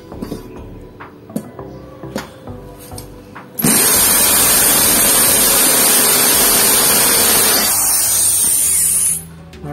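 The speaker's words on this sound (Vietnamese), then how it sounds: "mũi khoan khá nóng thì phải cho nước à" Light taps and handling noises, then a sudden loud, continuous hissing spray of water onto a hot HSS titanium-coated drill bit during drilling, holding steady for several seconds before cutting off abruptly.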